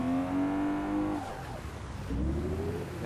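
A car engine in a video game revs loudly, its pitch climbing, dropping, then rising again as it accelerates, with some tire noise and no voices.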